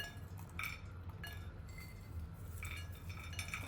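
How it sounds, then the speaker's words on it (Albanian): Chopped walnuts dropped into a baking dish with figs, cheese and honey, making a few light, scattered clinks and rattles against the dish over a quiet background hum. "Tash morim arra dhe i hedhim kështu arra"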